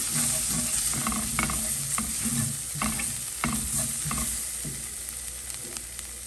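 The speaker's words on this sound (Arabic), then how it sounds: "أحب أضيف كمان بقدونس مجفف، اختياري طبعا، بس أنا أحبه لأنه يعطي كذا شكل حلو ونكهة حلوة. نقلب شوي." Pasta sauce with dried parsley stirred in a pan: continuous sizzle under rhythmic scraping strokes of a spoon, busier at first and easing toward the end.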